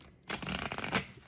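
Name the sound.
tarot cards being shuffled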